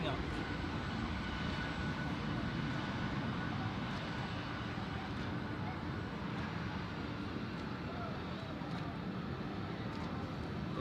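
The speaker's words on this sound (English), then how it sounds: "And now it is the Swiss 777's turn to San Francisco. More GE90 action coming up." A Swiss Boeing 777 with GE90 engines departs on runway 28 at Zurich, a steady broad distant roar of jet engines held at an even level throughout, without talk.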